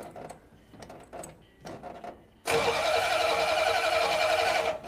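An old 1935 Ford truck engine cranks in several uneven, labored bursts, then catches and runs loud and steady for a couple of seconds before cutting out abruptly.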